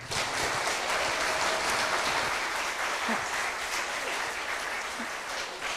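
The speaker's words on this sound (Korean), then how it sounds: "여러분 다시 한번 두 대표 학생들에게 힘찬 박수 부탁드립니다" A hall audience at a Hanyang–Chiben sister-school anniversary event applauds two student representatives, with sustained, even clapping from many hands throughout, fairly loud and continuous.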